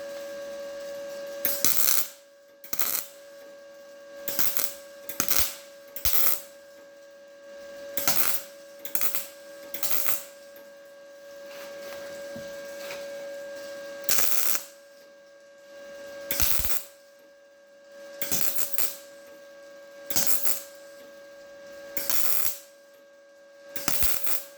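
An Arccaptain MIG200 welder butt welds 24 gauge rusty metal in short repeated crackling bursts of a second or two, each separated by pauses over a steady electrical hum.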